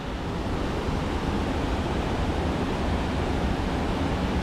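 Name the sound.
Napne waterfall rushing water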